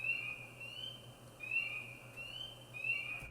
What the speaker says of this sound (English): I recorded some peepers the other night at home here